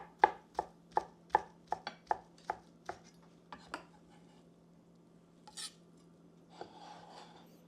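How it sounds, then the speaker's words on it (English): A knife chops boiled eggs into strips on a cutting board, about a dozen crisp, evenly spaced taps close by, then a brief scrape and a soft rustle near the end. "Cut the eggs into strips."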